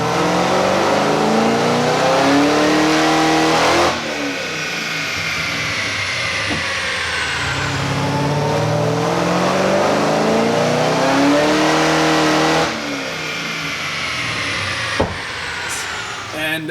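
Cammed Chevrolet Camaro ZL1 engine on a dyno, loud and close, climbing in a long rising rev, dropping sharply, and repeating in several aggressive pulls.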